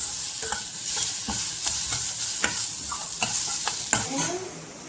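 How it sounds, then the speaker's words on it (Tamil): Green chilies sizzle in a frying pan while a spoon stirs and tosses them, with sharp scraping clicks at irregular intervals over a soft, continuous frying hiss. "பச்சை மிளகாய் போட்டு கொஞ்சம் டாஸ் பண்ணி எடுத்துக்கலாம்."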